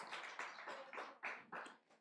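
A church youth congregation claps in quick, steady rhythm, about seven faint, even bursts over two seconds, with no voices.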